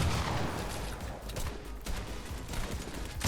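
Gunfire in a video game, a rattle of repeated shots in quick bursts over a busy, dense game mix, moderately loud with no talking.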